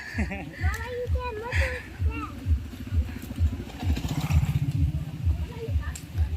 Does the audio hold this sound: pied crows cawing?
no